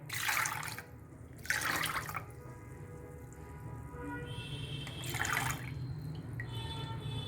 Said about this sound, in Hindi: ये देखिए पहले हम गुड़ को छानेंगे, इसमें जो रेशा होगा वो सब निकल जाएगा।